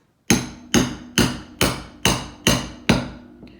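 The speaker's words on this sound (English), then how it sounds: "I'm gonna use a hammer" Seven evenly spaced, ringing metal hammer blows drive a part into a BMW 5HP24 automatic transmission from an E39 540i during an oil leak repair, close and loud, with nothing else heard.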